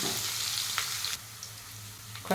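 Dried red chillies and coarsely crushed garlic cloves frying in oil, a loud steady close sizzle with a few stirring clatters near the end.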